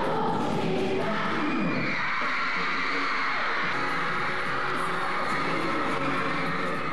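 Girl fans screaming and cheering for a K-pop group at a music video shoot, a sustained high-pitched crowd roar that swells early then holds steady throughout.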